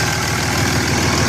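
A 2007 Cummins 6.7 diesel pickup engine running close by, a loud, steady idle with rapid, even knocking pulses throughout.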